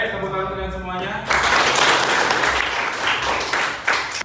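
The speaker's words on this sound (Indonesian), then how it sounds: "Baik, tepuk tangan kalian semuanya." A class of secondary-school students applauding in their classroom, loud dense clapping that erupts right after a teacher's spoken instruction and carries on strongly for several seconds.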